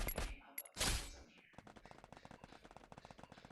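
Gunfire in a mobile battle royale shooter, a loud burst of shots early on, then a rapid, faint automatic rattle of distant fire continuing steadily.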